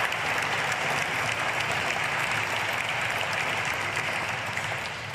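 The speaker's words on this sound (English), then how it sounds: "can I get one more round of applause for these wonderful students, teachers, and staff, and admin that are here?" Sustained applause from an audience honoring students, teachers, staff and administrators at a school district governing board meeting, a dense, steady wash of many hands clapping at once with no break.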